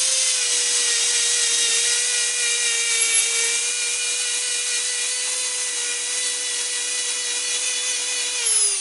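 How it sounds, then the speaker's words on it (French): A wire brush scrubs welded metal wire strands on handmade car body panels, a steady continuous bristly rasp running unbroken and fairly loud throughout, with a low constant hum underneath and no talking. "hop, un coup de brosse"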